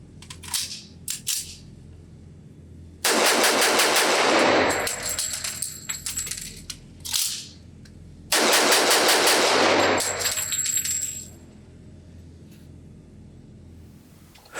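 A CZ 97B pistol in .45 ACP fires during a magazine change drill: two quick strings of rapid, loud shots separated by a pause filled with metallic clicks and handling noises.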